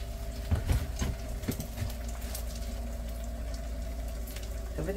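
Sausage sizzles in a hot pan on an Xplore XR22 camper stove, a steady wash of frying hiss with a few sharper crackles and pops early on, close by and fairly loud.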